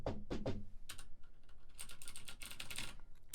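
Computer keyboard typing picked up close by a condenser studio microphone, with rapid clusters of crisp clicking keystrokes, some heavier thocks early, then a quick flurry of lighter taps.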